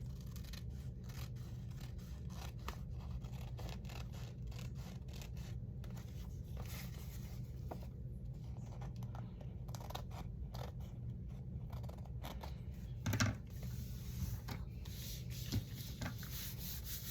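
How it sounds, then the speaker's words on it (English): Scissors trim paper for altered book pages, quiet close snipping and rustling with a few small scrapes, faint and intermittent against a low background hum. "I got my scissors here, and let me trim my paper."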